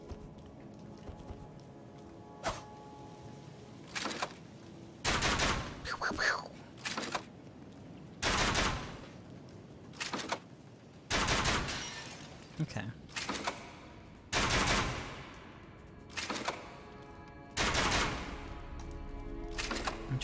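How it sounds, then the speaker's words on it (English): Weapon firing bolts in the video game Elden Ring, a series of sharp, loud discharges at irregular intervals, some in quick pairs, over a steady low game background. "Let me fire this piece of shit real quick before I waste my bolts"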